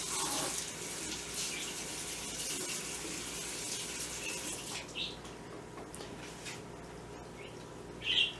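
A celery stalk is rinsed under a running kitchen tap, with a steady rush of water splashing for several seconds and a few faint, brief higher sounds near the end.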